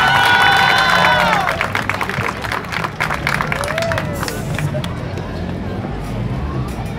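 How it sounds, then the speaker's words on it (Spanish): A live crowd at a municipal band recognition event in southern Sonora cheers and claps in a steady, dense wash, with whistles and shouts near the start and continuous babble throughout. "Yo sí pido un aplauso primero para Navojoa, Sonora"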